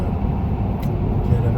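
An RV rolls along I-80 through a construction zone, giving a continuous low road rumble and engine hum, steady and moderately loud, with no clear talk over it.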